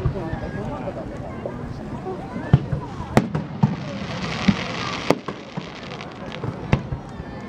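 Fireworks going off in Japan, a scattered string of sharp bangs and crackles spaced a second or so apart over a steady hiss, with people talking throughout.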